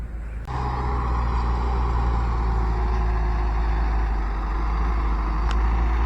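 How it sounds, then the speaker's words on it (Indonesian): A loaded sand truck hauling from a community sand mine near a toll-road bridge construction site rumbles steadily close by, a continuous heavy engine drone with a brief hiss near the start and another toward the end. "kita lihat truk yang mengangkut pasir ya teman-teman, dari lokasi penambangan pasir masyarakat."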